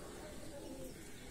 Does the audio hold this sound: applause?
no